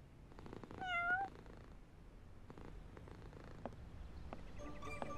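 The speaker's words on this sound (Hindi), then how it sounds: "मगर ये तो बिल्ली है।" A cat in a children's cartoon gives one clear, rising-and-falling meow near the start, followed by soft purring and faint rustling, with no talking.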